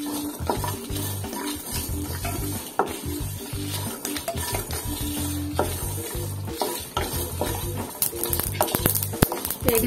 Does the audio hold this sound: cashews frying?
yes